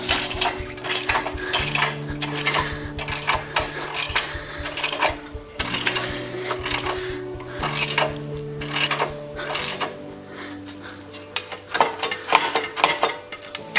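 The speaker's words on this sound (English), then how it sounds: "jack her up so we can get the wheel out" A floor jack ratchets rapidly and steadily, lifting a Harley motorcycle so the back wheel can be removed; the clicking pumps go on continuously, close and loud.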